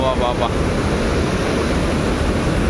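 Water gushes from two opened dam gates in heavy rain, a loud, constant roar, with a brief tonal sound near the start.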